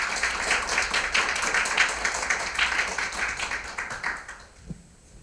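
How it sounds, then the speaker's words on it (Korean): A seated audience at a climate seminar applauds: dense, steady clapping for about four and a half seconds, then fading out to near quiet. "큰 박수 부탁드립니다."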